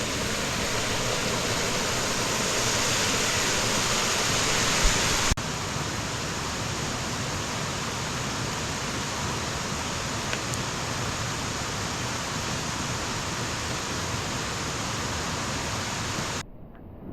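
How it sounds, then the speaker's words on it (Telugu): Waterfall at the Garden of Caves near Shillong, Meghalaya, giving a dense, constant roar of falling water that stays loud and unbroken throughout, with no talk over it. "ఈ వాటర్ ఫాల్స్ ఏందేమో కానీ"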